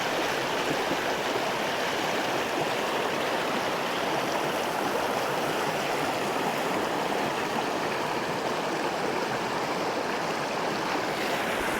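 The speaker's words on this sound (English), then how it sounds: "This is the creek that empties from the lake I'm heading into." A mountain creek pouring out of an alpine lake in Montana backcountry, a steady, dense rush of flowing water heard close up and unbroken from start to finish.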